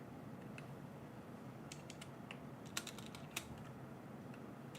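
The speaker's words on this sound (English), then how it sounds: "Tofu, let me use my keyboard." Typing on a computer keyboard, quiet, close, irregular key clicks in short bursts, with a couple of sharper louder taps near the end, alone in low room noise.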